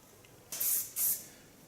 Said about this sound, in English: With a little bit hairspray